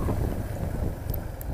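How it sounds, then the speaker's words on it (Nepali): Steady wind blowing across the microphone on a hillside route in Dailekh, Nepal: a continuous low rushing breeze, fairly constant in level, with no voices and a couple of faint brief high tones. "सिरसिरे बतास"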